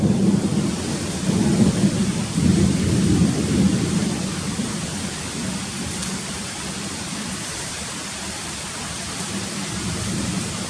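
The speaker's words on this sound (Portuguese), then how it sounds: "E tá começando a chover forte." Heavy rain pours down during a thunderstorm in Vila Regina, Itaquera, São Paulo, a loud, steady wash of rainfall with deep rolling thunder rumbling through the first half before the downpour carries on alone.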